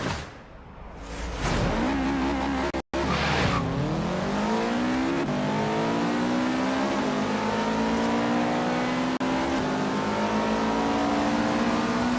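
A car in the Forza Horizon racing game revs hard and accelerates, its engine note climbing steadily through the gears after a brief cut near the start, loud and sustained without talk.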